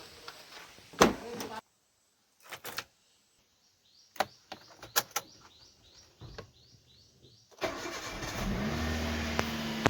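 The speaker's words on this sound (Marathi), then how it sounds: "कोल्ड स्टार्ट करूया आता गाडी आता लावले कोल्ड स्टार्टला" An Ashok Leyland dumper truck with a low battery is cold started: a few sputtering cranks and clicks separated by silences, then the engine catches near the end and settles into a steady running rumble.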